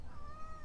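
A cat meows once in a single drawn-out, gliding cry, close and fairly quiet, with no talking.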